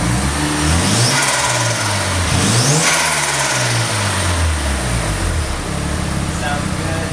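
A Mazda RX-7 FD3S rotary engine fitted with a new downpipe revs loudly and close by in several quick rises and falls, then drops back toward a rough idle.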